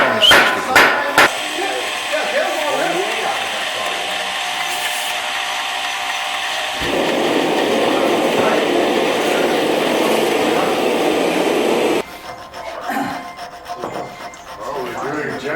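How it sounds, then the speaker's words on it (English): A belt grinder fitted with a 220 grit belt polishes a razor, a loud continuous rasping grind that shifts in pitch and pressure and stops near the end, with a few clicks at the start and quieter handling sounds afterward. "It's a 220 grit belt put on to remove the scratches from the 60 grit."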